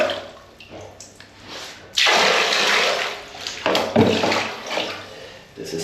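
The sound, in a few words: toilet flushing in an Indomaret store restroom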